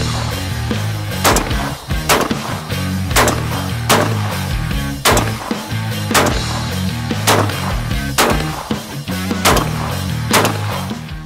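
A new Turkish Altobelli double-barrel shotgun fires in a long endurance test, with about a dozen sharp, loud reports spaced roughly a second apart over steady mechanical background noise.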